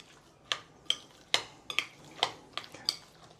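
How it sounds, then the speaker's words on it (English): Meat filling for five spice meat rolls being mixed in a bowl, with utensil clinks and scrapes against the bowl at a steady stirring rhythm, close and moderately loud with no talking. "Now we are going to mix everything nicely together."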